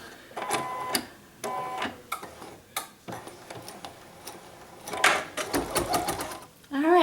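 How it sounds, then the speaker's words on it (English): An embroidery sewing machine satin-stitches around an appliqué flower in short bursts of rapid mechanical clatter, separated by brief pauses, while someone talks over the stitching throughout. "Now what this wonderful machine is going to do is it's going to satin stitch beautiful satin stitches around this flower."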